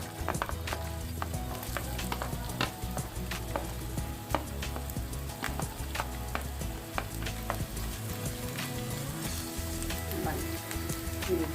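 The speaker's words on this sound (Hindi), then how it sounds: "ऑयल डाल के हमने अपनी वेजिटेबल को फ्राई करना है। अब हम प्याज डालेंगे" Sliced onions frying in oil in a pan, a dense crackling sizzle with frequent sharp pops and stirring scrapes, close and steady throughout, no talk.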